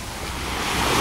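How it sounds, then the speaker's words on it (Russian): Sea waves breaking on a busy beach in Alanya, a steady, loud wash of surf that swells slightly toward the end, with no voices. "Они нормальные, они не мешают купаться, эти волны."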